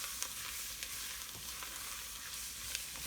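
Chopped vegetables sizzle steadily in a pan as they are folded into a roux for Cajun shrimp étouffée, a continuous crackling fry with occasional soft scrapes from the stirring, close and moderately loud with no talking.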